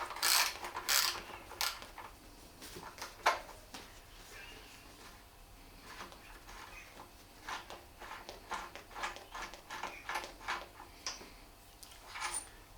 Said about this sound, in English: I've got a socket here on a long extension. I'll get that on the mounting bolt and undo that.